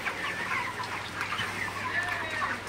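Broiler chickens clucking on a poultry farm, a close, steady chorus of overlapping murmuring clucks and soft calls running throughout.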